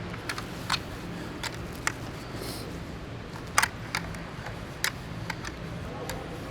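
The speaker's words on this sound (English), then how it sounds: "But every bolt with a spanner, which comes in the pack, nice and tight." Bolts on a tennis court bench are tightened with a pack-supplied spanner, giving light intermittent metallic ticks and clicks spaced irregularly over a low background hum, fairly close and quiet.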